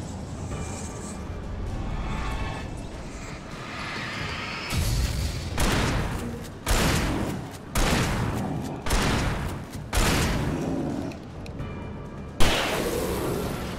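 Shotgun blasts boom repeatedly in the video game Alan Wake, about nine loud, close shots in a steady rhythm that starts after a few seconds of low rumble.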